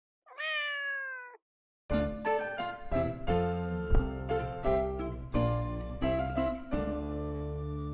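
Cats meow: one high, drawn-out mew, then after a short gap a dense run of loud, close, tonal mewling calls follows one after another, with no talk.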